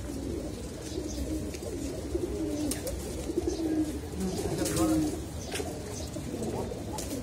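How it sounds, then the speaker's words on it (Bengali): Pigeons cooing inside a large loft in Bangladesh, soft overlapping coos and rustling throughout, with faint voices and background noise mixed in. "এত কবুতর"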